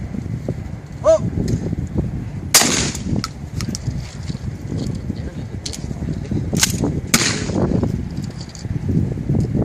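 Shotgun blasts at an outdoor baby shower shooting game, a few sharp loud reports spread several seconds apart, with people talking and exclaiming throughout.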